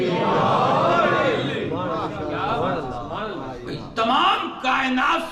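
A large gathering at a religious majlis answers the Nara-e-Haideri chant with a loud collective shout, many voices raised together over an echoing hall.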